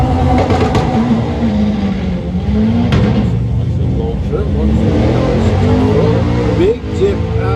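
A V6 turbo front-wheel-drive drag car roars at a European doorslammer event at Santa Pod, its engine note rising loudly with revving surges, while a commentator talks over the noise.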